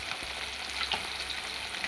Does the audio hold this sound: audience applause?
no